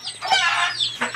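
Hens cluck close by around their newly moved nests, a short run of throaty calls rising and falling in quick succession.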